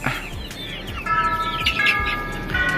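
Young chicks in a poultry pen peep continuously in thin, high chirps, several birds overlapping at close range with a steady, busy chorus.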